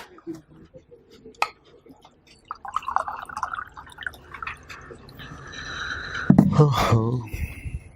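Water is poured and gulped down during a classroom lecture: a brief splash and trickle, then close gurgling swallows, with voices talking around it.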